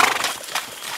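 Horses on a Bolivian cattle ranch during calf branding, brief hoof clops with a short whinny close by, heard alone for about a second.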